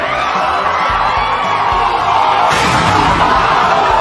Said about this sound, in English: This crowd is going bananas!